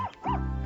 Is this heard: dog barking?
yes